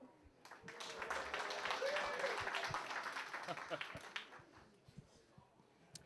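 At a technical talk on open-source computing, the audience gives a moderate round of applause that swells and then fades into scattered claps, with some voices mixed in.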